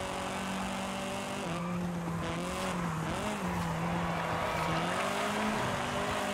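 An Audi racing in Forza Horizon 5 online, its engine droning steadily with shifting pitch throughout, layered with tire squeal and a busy, loud game mix.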